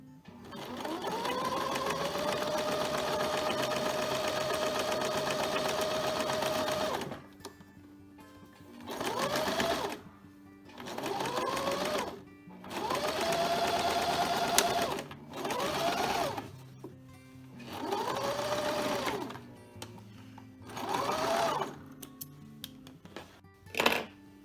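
A domestic sewing machine stitches a fabric face mask at a quarter-inch seam: one long continuous run, then a series of short start-stop bursts with a rising motor whine, close and moderately loud.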